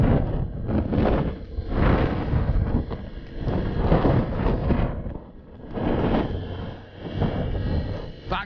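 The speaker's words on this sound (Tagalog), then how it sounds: "Lakas ng hangin." Strong wind roars and buffets a microphone outdoors in the open, loud and continuous with gusting surges and dips throughout.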